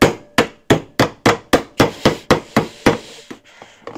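Pliers strike and work at a rusty metal WW2 ration tin, a rapid run of about ten sharp metallic knocks at a steady rhythm, close and loud, then a fainter scrape as the lid gives.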